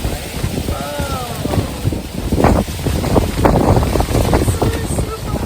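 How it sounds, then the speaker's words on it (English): Strong wind buffets the microphone in heavy, roaring gusts in Cambodia as a storm approaches, with brief voices partly buried underneath. "This is super windy."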